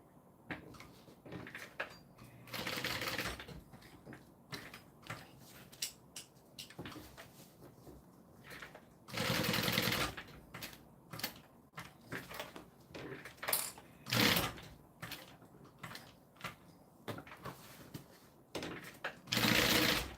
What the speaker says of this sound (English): Shoulder straps are sewn on.